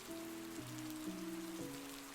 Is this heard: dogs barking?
no